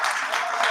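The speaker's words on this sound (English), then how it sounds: "let's clap for the issue" Applause from an audience at an annual in-house research review and planning meeting, a brief, steady wash of clapping from many hands, fairly even in level throughout.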